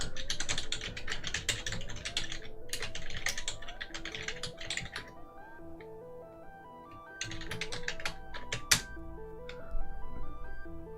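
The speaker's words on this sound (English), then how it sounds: "typing for the win" Rapid typing on a computer keyboard, dense bursts of clicking keystrokes in two runs with a pause between, close and clear over soft background music.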